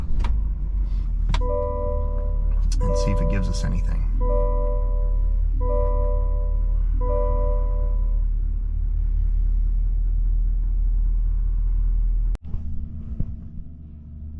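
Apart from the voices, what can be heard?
GMC 2500 AT4X AEV truck engine starting and idling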